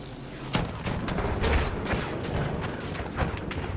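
Gunfire aimed at a bomber in the video game Battlefield 1: a continuous volley of overlapping shots and booms rolls through a loud, noisy battlefield scene for several seconds.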